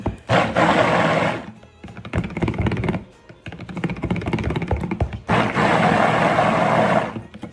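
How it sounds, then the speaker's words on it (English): A stick blender whirs in bursts, mixing green colorant into goat milk soap batter for a Christmas tree soap, with a steady buzzing hum that stops and restarts several times and clicks and clunks in between. "I'm going to use my stick blender to blend that one up"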